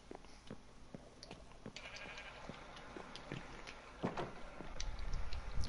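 Sheep bleating in the Minecraft video game, a few short bleats at moderate volume over steady game background noise, with a louder burst of activity near the end.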